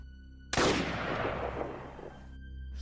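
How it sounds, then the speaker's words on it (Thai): A single gunshot cracks sharply in a forest, a loud sudden blast followed by a long, rumbling echo that rolls away and fades over about two seconds. "เสียงปืนดังสะเทือนเลื่อนลั่นไปทั่วทั้งป่า"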